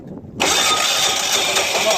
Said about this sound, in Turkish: Şunu çalıştır bakayım. Biraz gaz ver ona.